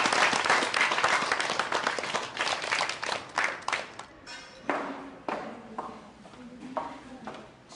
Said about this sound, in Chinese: 来，我们掌声送给他，好不好？